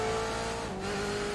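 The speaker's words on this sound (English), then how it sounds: "He locked the front right, entering the hairpin." A racing game car locks its front right tyre under braking into a hairpin at Montreal, a steady engine tone dropping in pitch over a continuous loud car sound with brief tyre squeal.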